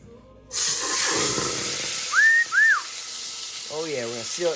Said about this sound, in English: we're gonna sear that up real nice